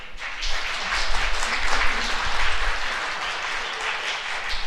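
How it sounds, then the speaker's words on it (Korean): Congregation at a church Mass on the third Sunday of Lent applauding, a steady wash of clapping that holds evenly for several seconds. "여러분 수고했다고 박수 한번 보내주시고요"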